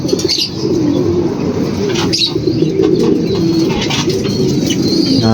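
Homing pigeons back from an NHPC training release coo and flutter their wings in a loft, a steady busy flock sound with low cooing throughout and occasional flapping, close and continuous.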